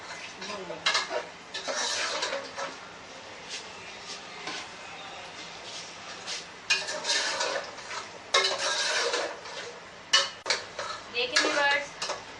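Tripe curry with spices is roasted in a pan, with repeated bursts of a metal spoon scraping and clanking against the pan over a low sizzle, the stirring coming in uneven rhythmic waves up close.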